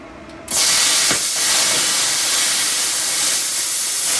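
A Silatu 65 amp plasma cutter notching 3/8-inch stainless steel starts abruptly and roars as a loud, steady hiss with a sharp crackle near its start, with no voices.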